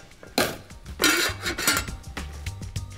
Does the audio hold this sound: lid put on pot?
yes